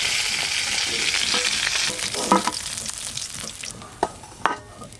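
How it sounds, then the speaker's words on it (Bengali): Koi fish frying in hot oil in a pan, a loud continuous sizzle that gradually softens, broken by a few sharper spatters and stirring clatters near the end. "কই মাছগুলোও কিন্তু বেশ ভালো করে ভাজা হয়ে গেছে"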